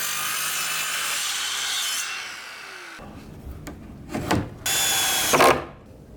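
A wooden beam being pre-drilled for 180mm screws in garage construction, a steady grinding drone followed by a pause and then several louder bursts of drilling into timber, close by.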